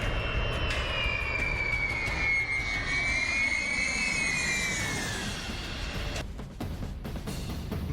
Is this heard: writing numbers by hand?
no